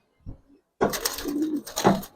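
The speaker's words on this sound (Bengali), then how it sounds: "এটা নর, এটাও নর কবুতর।" Male Giribaz coloring pigeons coo nearby: a short soft call, a pause, then a longer rolling coo that swells and warbles before trailing off, heard without talk.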